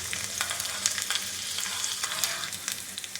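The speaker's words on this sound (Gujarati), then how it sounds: "તેલ ગરમ થાય એટલે તેની અંદર રાઈ ઉમેરીશું" Steady crackling sizzle of mustard seeds, chilies and sesame seeds hitting hot oil, with sharp pops scattered throughout, continuous and close.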